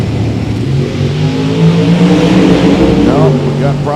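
Drag racing car with a turbo spooling at a drag strip, a loud sustained engine roar with rising harmonic whine building toward the end, close and continuous.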